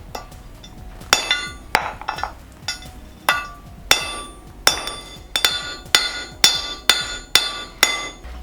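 Sharp metallic hammer strikes ring out one after another, sparse at first and then settling into a steady, fairly regular rhythm of loud clanging blows.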